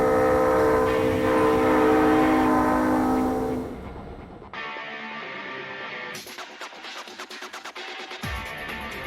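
A train chime horn imitating an old steam whistle blares with a loud sustained multi-tone chord, then cuts off, leaving rolling rail noise and rhythmic clatter of passing cars.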